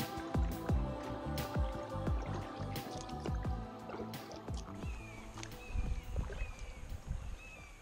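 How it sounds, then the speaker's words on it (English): Rippling, splashing water from a secluded river with small rapids in northern Florida, heard close with drips and gurgles and occasional knocks, as if from a boat, with no speech. "We are in a secluded river in northern Florida, and look at that. We got ripples and rapids."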